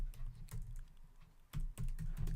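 Typing on a computer keyboard in bursts of quick, close clattering keystrokes, with a short pause in the middle before the typing picks up again.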